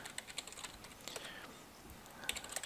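Quiet keyboard clicks as a password is typed on a computer keyboard, a short run of irregular taps at close range over faint room background.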